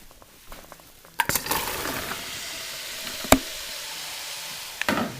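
Onions are tipped into a hot pan and start frying with a steady sizzle, set off by a few sharp clinks and knocks of a utensil against cookware. The sizzle stays close and moderately loud, with no talking over it.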